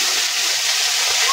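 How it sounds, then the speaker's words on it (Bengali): Water poured into a cooking pot for a puti fish dish, a brief continuous bright splashing stream, close and fairly loud. "সামান্য একটু জল দিলাম"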